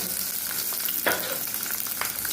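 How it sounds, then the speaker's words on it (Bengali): Onion and capsicum tossed in hot oil over a medium-high flame for kadai paneer, making a dense, continuous sizzle close up with a few brighter bursts as the spatula stirs, no speech. "এই গরম তেলের মধ্যে এবার আমি পেঁয়াজ আর ক্যাপসিকামটাকে দিয়ে ভালো করে একটু নেড়ে নিচ্ছি।"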